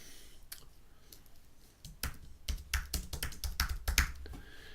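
Typing on a computer keyboard while formatting an InDesign book template: a quiet pause, then a quick run of sharp key taps and clicks, close and fairly soft.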